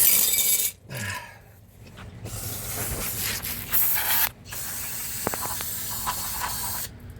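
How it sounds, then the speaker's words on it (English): Brake parts cleaner sprayed onto a brake caliper piston on a 1993 Buick LeSabre, with long hissing aerosol bursts broken by short pauses, close to the microphone, and a few faint metallic clinks near the end. "Now I'm just going to take some brake parts cleaner and clean this piston."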